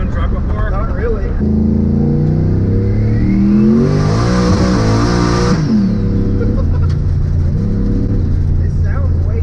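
Turbocharged LS-powered 1995 Chevy drag truck accelerating hard, loud engine and exhaust climbing through a rev with a high turbo whine, then settling back, heard from inside the cab with speech over it.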